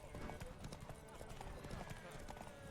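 Horse hooves clip-clop in a steady, rapid rhythm during a race in The Witcher video game, running continuously under a background of voices.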